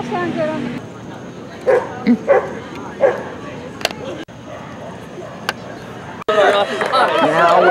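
Large working-group dogs at an annual point show, with several short barks rising over a steady crowd murmur and nearby talk, then a burst of louder, busier vocal activity near the end.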